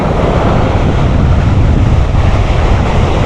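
Strong sea waves breaking at a river mouth, a loud continuous roar of surf mixed with wind buffeting the microphone, with no voices.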